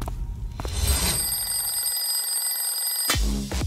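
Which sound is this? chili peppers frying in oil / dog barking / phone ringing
phone ringing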